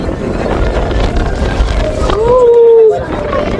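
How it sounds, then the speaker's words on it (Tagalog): Strong wind buffets the microphone on drizzly Ba Na Hills near the Golden Bridge in Da Nang, Vietnam, a loud, continuous low rumble that briefly eases while a voice calls out. "ang lakas ng hangin"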